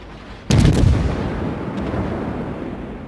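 A USS Pensacola cruiser in World of Warships fires an AP salvo at a bow-on Scharnhorst, giving one sharp, loud boom that rolls off into a long rumbling decay, with no other sound around it.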